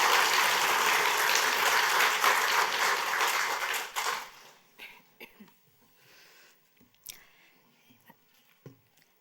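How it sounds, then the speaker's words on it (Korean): Church congregation gives a round of encouraging applause for someone stepping up to give a testimony, dense clapping for about four seconds, then tapering into a few scattered claps and small room noises. "우리 한번 잘 하시도록 격려의 박수를 한번 해주세요"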